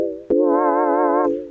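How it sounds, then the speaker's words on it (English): A Yamaha CX5M music computer playing a synth patch: after a brief tail of an earlier tone and a click, a rich, slightly vibrato-wavering sustained note rings loudly for about a second, then shifts and fades. "And that sound is coming from the CX5m itself."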